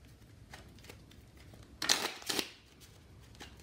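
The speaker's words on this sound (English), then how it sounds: "I'll just shuffle a couple of times here for brevity's sake." Playing cards are shuffled at a tabletop game during a Texas Hold'em dice tutorial, with two quick riffling bursts close up against a quiet room background.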